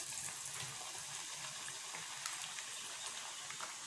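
Brinjal bajji, batter-coated eggplant slices, fry in a pan of hot oil in a village kitchen, giving a steady, dense sizzling hiss that continues without a break.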